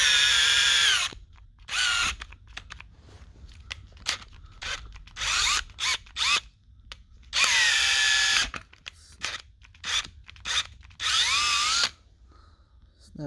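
Snap-on cordless power tool cutting a block held in a vise for a 2001 Honda CR-V lift kit, with repeated loud high-pitched whining bursts separated by short pauses and a quiet tail at the end.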